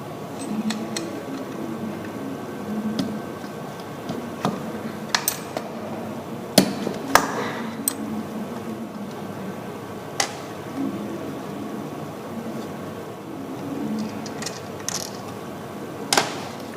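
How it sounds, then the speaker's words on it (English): A 10mm wrench loosening the connecting rod bolts on an 87cc small engine gives faint, scattered metallic clicks and ratcheting ticks over a quiet background. "to remove these, you will need a 10mm wrench"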